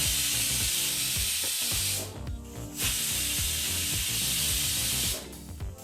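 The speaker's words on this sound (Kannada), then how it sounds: "ಹೀಗಿಲ್ಲಿ ಕುಕ್ಕರ್ 2 ವಿಸಲ್ ಬಂದಾಯಿತು." A pressure cooker on a stove cooking vegetable pulao lets off loud, steady steam hissing in two long bursts separated by a short break, then cuts off near the end. No one speaks.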